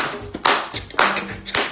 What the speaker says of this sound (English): But what kind of clap you gonna have is a clap like this.